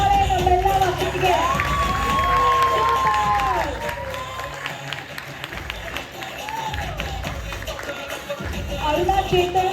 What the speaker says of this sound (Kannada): ಹೋರಾಟ ಚಪ್ಪಾಳೆ ನಮ್ಮೆಲ್ಲ ಮಕ್ಕಳಿಗೆ